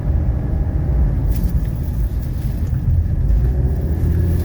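A 1985 Mercedes 300D diesel car accelerating uphill, heard from inside as a steady, loud low engine rumble and road drone that holds evenly throughout with no talk.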